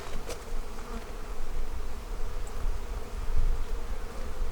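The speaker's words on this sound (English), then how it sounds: "This is a brood frame with nurse bees on it." A dense, continuous buzz of many honeybees, nurse bees on a hive brood frame close by, with no talking.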